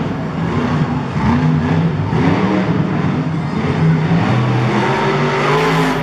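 El Toro Loco monster truck engine revving loudly at a Monster Jam freestyle run in St Louis, a continuous roaring drone with rising and falling pitch and a dense crowd-filled arena background.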